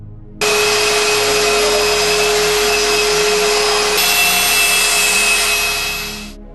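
A Profi 45 industrial vacuum cleaner starts abruptly and runs loud and steady with a constant high whine, then winds down at the end. No one speaks.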